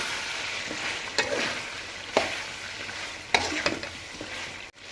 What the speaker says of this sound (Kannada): 2 ಸ್ಪೂನ್ ಇದು ಕೂಡ ಸೇರಿಸ್ಬಿಟ್ಟು ಚೆನ್ನಾಗಿ ಮಿಕ್ಸ್ ಮಾಡಿ